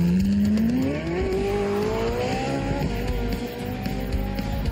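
A car driving in a film scene, its engine rising steadily in pitch as it accelerates, loud and continuous under a dense wash of road and soundtrack noise, with no talk.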